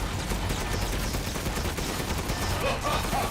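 Continuous gunfire in the video game Resident Evil Village, a steady dense barrage of shots with loud low thumps throughout and game voices over it.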